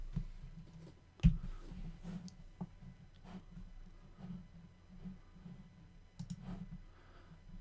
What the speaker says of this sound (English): I'm trying to type on my keyboard, which is sitting behind the microphone